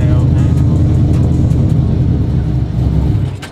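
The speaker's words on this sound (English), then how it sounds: "When you feel the truck moving, start giving it more gas." The sequential burnout truck's engine revs hard and continuously under throttle, a loud, close rumbling roar that holds steady and eases slightly at the end.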